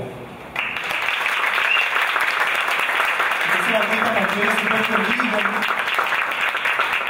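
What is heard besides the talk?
comedy show audience applauding the artist's entrance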